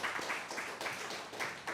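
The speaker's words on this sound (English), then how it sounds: "A round of applause for our second guest." Applause from an audience for a guest joining the stage at a live Q&A event: a steady wash of clapping, fairly faint and distant, with no talk over it.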